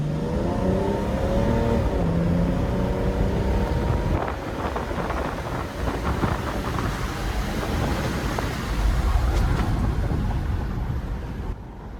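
A BMW diesel car engine revs hard and keeps pulling while driving, a loud, continuous roar heard from inside the cabin with heavy wind and road noise.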